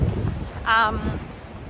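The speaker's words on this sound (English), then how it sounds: "It's a bit windy." Wind in Copenhagen buffets the microphone with a low, blustery rumble throughout, and a brief voice rises over it midway.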